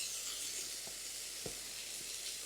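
Vegetables tossed into a hot stir-fry pan give a steady, even sizzle and hiss, with a couple of soft clicks from stirring, heard up close with no talking.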